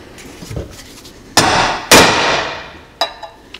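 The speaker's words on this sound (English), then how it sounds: "place a punch in the middle of the rivet." A hammer striking a punch set in a brake rotor rivet on a BMW K75 motorcycle, two sharp ringing metallic clangs with decaying tails followed by a lighter tap, close and loud.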